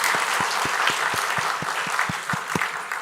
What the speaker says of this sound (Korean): 우리 사랑의 박수로 환영하도록 하겠습니다